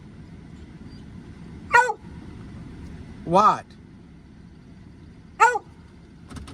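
Barney the dog gives three sharp, separated barks at a moderate distance over a low background rumble, with a short spoken word from a person between them.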